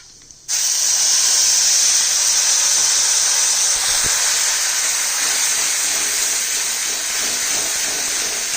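Asafoetida tempering in hot oil for a mustard dish, a loud, steady close sizzle and hiss that bursts in suddenly and holds on evenly with no talk.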